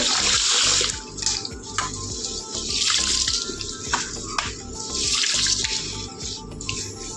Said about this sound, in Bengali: তখন আমি চালটা এখানে ধুয়ে নেবো